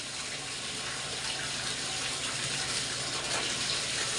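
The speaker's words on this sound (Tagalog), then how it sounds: "ako muna ang magwasi-wasi ng aming lababo" Water running steadily from a tap into a kitchen sink while washing on laundry day, a constant close, moderately loud gushing stream with no pauses and no talk.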